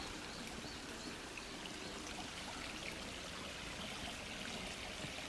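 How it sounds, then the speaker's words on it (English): Steady rushing and babbling of a flowing stream in Tokyo in the early morning, a continuous wash of water noise, faint and unbroken throughout. "Sound of water."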